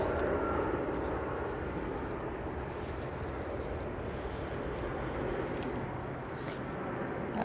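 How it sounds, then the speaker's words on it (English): An Aer Lingus airliner pushes back at Manchester Airport, a broad steady jet engine roar with constant loudness throughout and no clear talk. "Aer Lingus to Barbados is pushing back."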